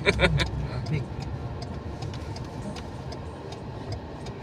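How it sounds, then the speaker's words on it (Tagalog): A car engine labouring while driving on the road to Kumul Flyover at Erima, Port Moresby, a continuous low rumble with people talking over it inside the car. "Hindi na makahinga yung makina."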